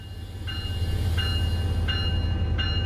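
The Metrolink F125 diesel locomotive in Train Sim World 5 powers up with a steady low engine drone, while a short high tone beeps at regular intervals.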